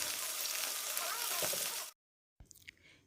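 Julienne-cut chicken frying in oil in a pan until golden brown gives a steady, close hiss and sizzle that cuts off abruptly, followed by a few soft clinks and stirring sounds.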